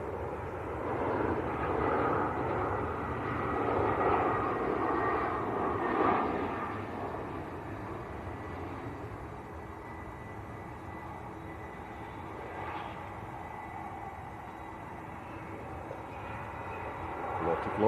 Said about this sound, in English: Aer Lingus A330 coming out.